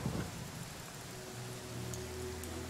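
Rain in Pathfinder: Kingmaker falls as a steady, soft hiss at night, with a low droning tone underneath.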